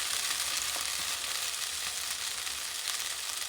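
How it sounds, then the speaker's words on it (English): Potatoes frying in a pan with salt give off a steady, continuous sizzle, even and fairly quiet throughout with no voices over it. "listen to that sizzle."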